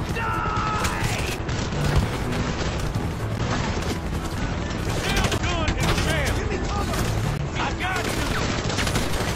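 Dense, continuous gunfire and booms in the game GTA V, rapid overlapping shots and bursts filling the whole stretch, loud, with voices shouting over the chaos.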